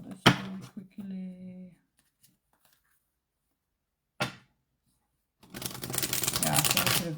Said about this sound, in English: let me just shuffle this really quickly.